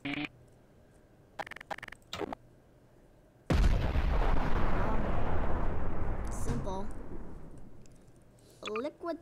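A JDAM bomb detonates in the Garry's Mod video game with a sudden, loud broadband blast that rumbles and slowly decays over several seconds, bracketed by brief speech before and after.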